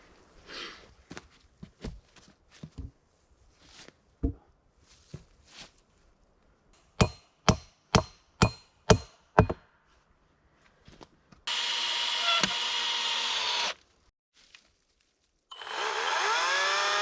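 Logs are hewn by hand into guide rails for a forest dugout roof: a series of sharp, regularly spaced wood chops and strikes close by, followed by two sustained bursts of a power saw cutting.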